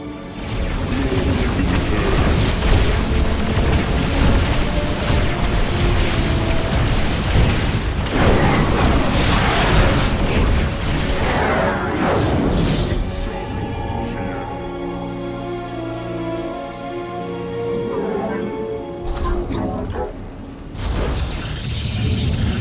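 Protoss cannon explosions in StarCraft 2: Legacy of the Void, a loud, continuous barrage of booming blasts and crackling bursts that eases into a lower, steadier rumble with scattered pops.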